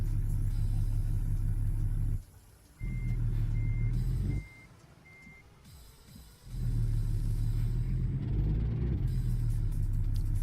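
A heavy truck engine in American Truck Simulator drones with a loud, steady low rumble, straining hard. Reversing beeps repeat through the middle, and the engine sound drops out briefly twice before surging back.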